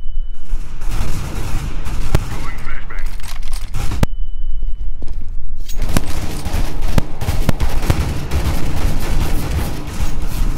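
Rapid, loud gunfire from Counter-Strike: Global Offensive: dense bursts of automatic shots and booming blasts fill the clip, broken by a brief near-silent gap before the shooting resumes.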